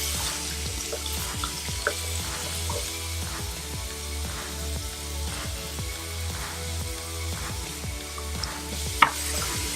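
Warm water running from a tap into a sink while makeup brushes are washed, a continuous splashing stream with some clatter and scrubbing mixed in, fairly quiet.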